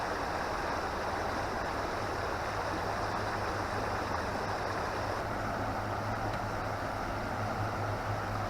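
The clear Shimmer River in Tollymore Forest Park, Northern Ireland, rushes steadily with a continuous broadband wash of flowing water, even and unbroken throughout.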